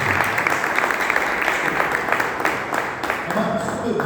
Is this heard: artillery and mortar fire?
no